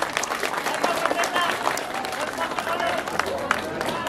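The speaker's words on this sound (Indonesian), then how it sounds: "Tepuk tangan dulu dong buat pimpinan kita." A crowd of teachers applauds its leaders at a regional council meeting in Garut, the clapping dense and steady throughout with a faint murmur of voices mixed in.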